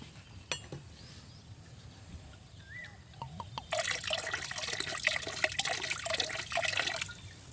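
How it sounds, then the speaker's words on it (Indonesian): Vinegar is poured into water to lower its pH for chili plant treatment: faint handling noises and small plinks, then a steady splashing pour of liquid for a few seconds close by. "akan saya tambahkan sedikit lagi asam cukanya"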